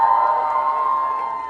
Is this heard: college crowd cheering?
yes